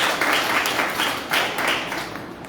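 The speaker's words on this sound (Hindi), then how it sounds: "मैं चाहता हूँ एक बार जोरदार तालियों से अभिनंदन किया" A crowd in a hall gives sustained, enthusiastic applause at a community service organisation's event in Ajmer, with dense clapping that swells and eases in waves for a couple of seconds.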